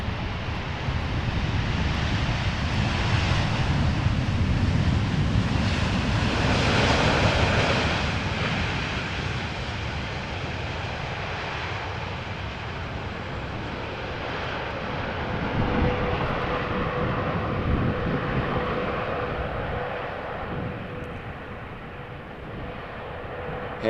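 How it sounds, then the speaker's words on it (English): KLM Boeing 787-10 Dreamliner jet arriving at Amsterdam Schiphol, a loud engine roar that swells to a peak, fades, then rises again before easing off, with no talking. "KLM flight 644 arriving from New York JFK"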